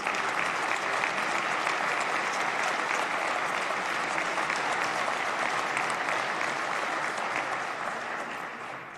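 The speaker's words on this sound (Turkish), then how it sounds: "Sizden onlar için bir alkış istiyorum." Sustained, loud, dense applause from a large audience honoring health workers, a continuous roar of clapping that holds steady and tapers slightly at the end.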